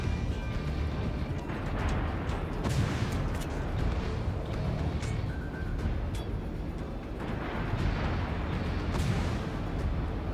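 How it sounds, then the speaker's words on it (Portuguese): Continuous rumbling naval gunfire in the video game World of Warships, with repeated heavy booms and sharp cracks, dense and unbroken, like a battle's steady barrage. "Olha os tiros chegando aí."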